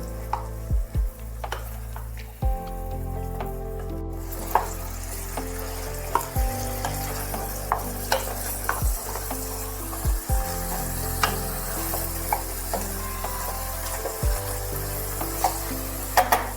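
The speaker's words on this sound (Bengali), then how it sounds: "ভালোভাবে একটু নাড়াচাড়া করে নিতে হবে" Chicken stew sizzling steadily in a pan while being stirred, with repeated scraping and knocking of a utensil against the pan over a constant close frying hiss.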